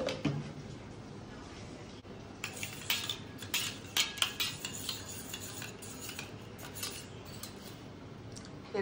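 Cumin, chili and turmeric powders are stirred with water in a small bowl, heard as a series of light, close scraping and clinking taps of a spoon that come in brief rhythmic bursts.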